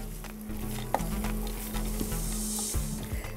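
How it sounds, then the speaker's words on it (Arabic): Onions fry in a pan with a bright, constant sizzle while a utensil stirs them, adding a few soft scrapes and taps close by. "هنقلب تقليبه كويسه قوي قوي قوي قوي لغايه ما البصل احسه بدا سنه يدبل"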